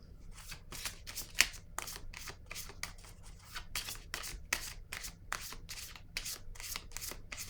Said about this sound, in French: Je vais piger une carte rose